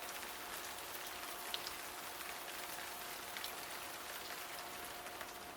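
Steady rain falls in an even, hissing patter with no pauses, a dense soft wash of drops on surfaces at moderate level.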